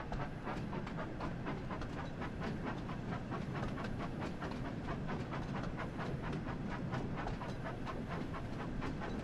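Steam locomotive from the Thomas & Friends Wonders of Sodor railway game running continuously, with rhythmic chuffing and clickety-clack wheel beats over a steady rumble, fairly faint throughout.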